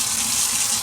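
Tap water runs steadily and loudly in a brief, close burst while fresh green beans are washed in the kitchen.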